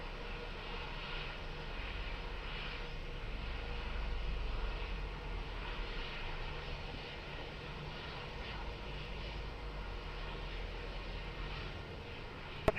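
An airliner on approach to land on runway 20 at Lisbon Airport, its engine roar a steady, moderately distant drone that holds evenly throughout with a slight swell midway.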